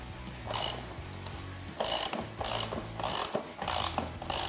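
A ratchet clicks in quick repeated strokes while a motorcycle rear axle is tightened during a brake job, close and fairly loud, with brief pauses between the bursts of ratcheting.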